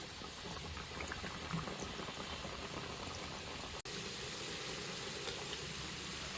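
Kajjikayalu fry in hot oil on a stove at medium flame, a steady soft bubbling hiss that runs continuously and fairly faint, broken once by a sharp brief click.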